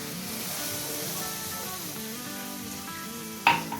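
Maida flour roasts in a pan with chicken filling for stuffed buns, a soft steady sizzle with faint scraping of a spoon, ending with a sharp clink against the pan.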